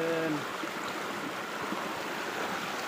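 A mountain stream runs over slippery rocks, a steady broadband rush of water that holds even throughout, with a brief voice-like tone at the very start.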